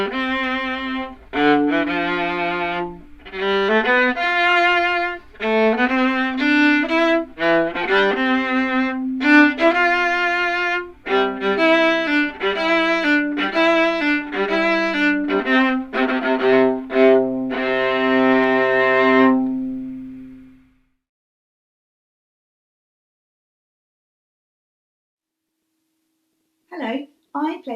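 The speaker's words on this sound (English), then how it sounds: "Have a listen to this piece to hear what the difference is between the tone quality of the violin and the viola." A violin and a viola play a melodic piece together in clear sustained and moving notes, with harmonized lines for about twenty seconds before fading out. A short voice comes in at the very end.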